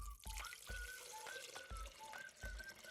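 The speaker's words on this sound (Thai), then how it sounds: "ต่อไปเราก็จะเทน้ำเปล่าลงไปเลยนะคะ จนถึง ขีดสีชมพูเล็กๆตรงนี้" Plain water poured into a glass jar, heard as a run of gurgling glugs with rising ringing tones, close and fairly quiet, with no voices.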